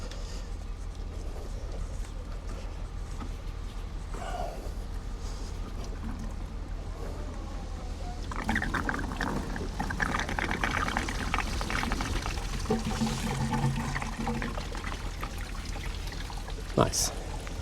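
Coolant spills out of a pulled radiator hose on a Mercedes W201 190D, a steady soft pour that grows fuller midway and runs on under quiet background noise.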